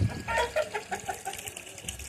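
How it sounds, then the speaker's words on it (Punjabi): A rooster, a fighting cock, clucks in a quick run of short, choppy calls, close by. "ਕੁੱਕੜ ਆ"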